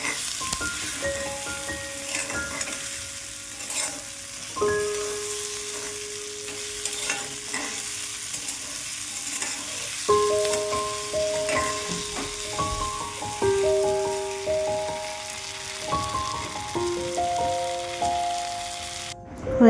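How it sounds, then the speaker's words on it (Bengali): Eggplant fries in oil to a brown colour, a continuous close sizzle and spatter with frequent stirring scrapes and clinks of the utensil against the pan, steady throughout. "ভাজতে হবে বেগুনটা।"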